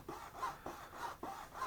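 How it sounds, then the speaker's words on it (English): A small hand saw cuts a part of an Eduard 1/48 MiG-21PF model kit with gentle, even strokes. About three soft, rasping back-and-forth passes sound close and quiet, with no talking. "So we're just gently letting the saw do the work."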